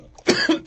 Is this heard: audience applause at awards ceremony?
no